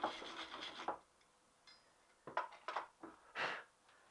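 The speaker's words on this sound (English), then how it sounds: "Wire brush." A wire brush scrubs a Triumph Bonneville T120R motorcycle cush-drive part in a few short, quiet rasping strokes separated by pauses.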